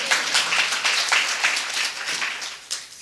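A church audience claps through a Telugu Christian sermon, with a burst of applause that rises and falls in uneven waves for a few seconds.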